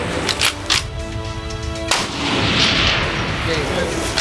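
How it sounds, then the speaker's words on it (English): Rifle shots fired at a long-range target during an outdoor hunting competition, a few sharp, loud reports spaced apart, each followed by a rolling echo. "But misses all three shots."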